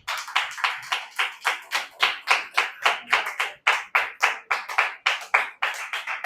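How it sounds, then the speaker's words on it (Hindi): A church congregation claps loudly in unison during a Hindi-language sermon, sharp evenly spaced claps in a steady rhythm of about three per second, close and dry, with no talk. "जोर से ताली बजाएंगे"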